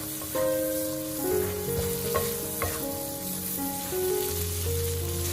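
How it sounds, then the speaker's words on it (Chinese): Prawns are stir-fried with salt and cooking wine in a wok over high heat, a close continuous sizzle broken by scraping stirs and the clink of a spatula, with no voices. "开大火翻炒均匀，让食盐化开"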